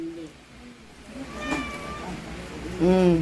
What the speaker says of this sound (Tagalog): Wow, naman yung pusa.